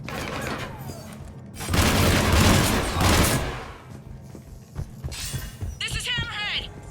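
Mass Effect 3 gunfire rings out in loud, sustained bursts and scattered shots amid game action, with voices speaking around the shooting.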